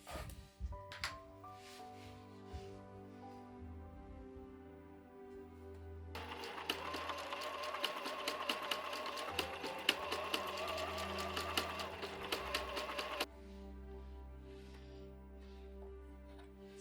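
A sewing machine stitching quilting through a fabric bag lining, a fast steady mechanical whirring run of several seconds, close and alone, between quieter handling noises.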